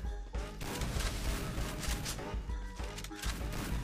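Rapid gunfire in a Counter-Strike match, several sharp shots and bursts in quick succession over a steady background din, with faint voice in the mix.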